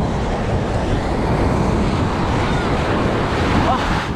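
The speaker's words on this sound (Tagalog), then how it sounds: "Lumakas ang alon mga Lodi, malakas." Strong sea waves surge against the shore at a fishing spot in Oman, a loud, continuous roar of surf with heavy wind buffeting the microphone throughout.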